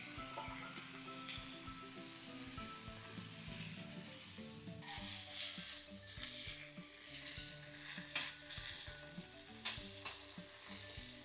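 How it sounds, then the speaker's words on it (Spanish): Bacon and onion sizzle together on a wood-fired griddle, a steady close crackle with frequent bright spatters and pops, plus faint stirring and scraping, no voices. "Ahora de este lado un poquito de cebolla para que se caramelice."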